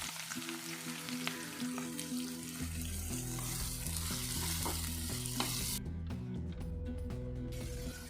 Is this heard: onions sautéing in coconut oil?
yes